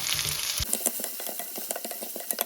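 Fennel seeds crackle and sizzle in hot oil for a potato roti filling: after a brief stir-like scrape, a steady fry hiss carries quick, close popping bursts.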